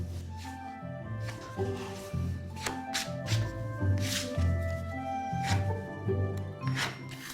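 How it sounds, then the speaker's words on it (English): Bread dough being divided into roughly 450-gram pieces and handled by a baker: soft squishy presses and slaps, rustling and light knocks on a work surface in an uneven rhythm, close and fairly quiet, with no talk. "And we divide the dough in about 450 grams"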